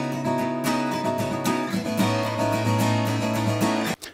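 Dry acoustic guitars play steady strummed chords with clear plucked notes, close and unprocessed, continuing for several seconds before stopping abruptly.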